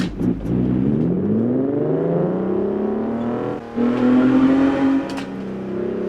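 Simulated race car engine in a sim racing game with traction control off, a steady loud drone whose pitch climbs and falls through gear changes, with a brief dip midway and no talk.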